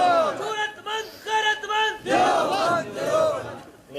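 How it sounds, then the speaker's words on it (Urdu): A large crowd at a religious gathering loudly chants religious slogans such as takbir during a cleric's speech, with rhythmic rising and falling shouted calls in repeated waves that fill the space. "میں ان سب نعرے والوں کو قدر کرتا ہوں. میرے بیان میں نعرہ نہ لگا"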